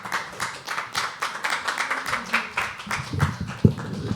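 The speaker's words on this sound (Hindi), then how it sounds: "बस इन तालियों को जारी रखिए" Audience applause at a live poetry open mic, an even patter of clapping from a small crowd that thins toward the end.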